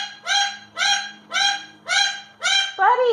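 A pet cockatoo imitates a dog's bark, giving five evenly spaced, loud, nasal honking barks close by, ending in a slightly different squawk.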